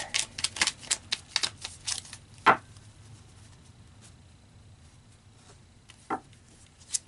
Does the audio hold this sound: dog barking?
no